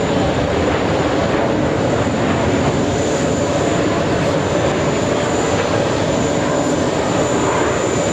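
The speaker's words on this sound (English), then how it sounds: "KLM taking off right now." A KLM airliner takes off at JFK Airport, its engines roaring loud and steady throughout, with no voices over the sound.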